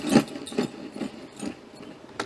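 A leather horse saddle creaks under a rider in armour, heard as soft, dry, irregular creaks and rubs that come in a few loose bursts, close and faint, with no voices.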